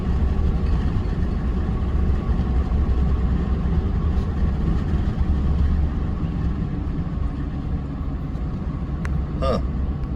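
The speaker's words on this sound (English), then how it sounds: "That's like a little airplane motorcycle." Engine of a small airplane-like motorcycle vehicle running with a steady, loud, low rumble throughout, with a faint click or rattle near the end.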